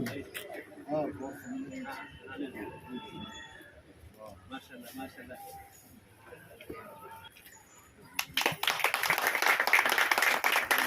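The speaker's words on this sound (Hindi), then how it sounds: "जोरदार तालियों से उनका इस्तेकबाल किया।" An audience at an NGO office opening welcomes actor Ali Khan with a burst of loud clapping that starts suddenly near the end, after a stretch of quiet room sound and murmuring voices.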